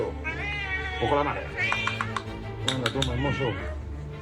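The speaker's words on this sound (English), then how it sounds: "Oh no, the cat!" A hungry cat meows insistently while waiting for its food, a few drawn-out cries rising over background music and voices.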